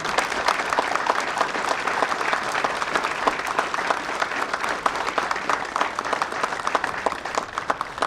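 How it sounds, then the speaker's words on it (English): Sustained applause from a crowd at an outdoor Memorial Day ceremony in Haverford Township, a dense, steady patter of many hands clapping throughout at even loudness. "We give you a round of applause as well."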